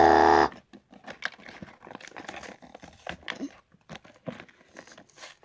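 Toy packaging torn open by hand, starting with a loud crinkling rip and followed by scattered softer crackles, tears and rustles of plastic and cardboard at close range.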